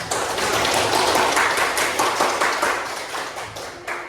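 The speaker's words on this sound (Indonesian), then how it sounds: "Oke, beri tepuk tangan untuk kelas." A sixth-grade class in a computational thinking lesson claps together, a dense, bright patter of many hands at close range that holds steady before gradually thinning out, with no talk.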